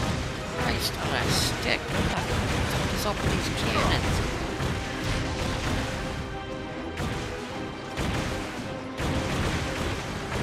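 Cannons firing in the Skylanders Giants video game, a loud, busy run of booms and crashing impacts layered over game music and effects, with a voice talking through parts of it.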